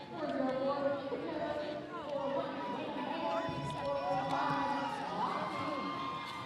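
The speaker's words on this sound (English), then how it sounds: "The cheering section is real in the house, right? It is very loud and very real." A roller derby crowd cheers and shouts loudly and continuously, many voices whooping and yelling over a roar of chatter in a large indoor venue.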